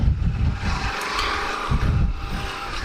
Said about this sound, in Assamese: ব'লক বাইকখনত উঠোঁ এণ্ড পটাপট যাওঁ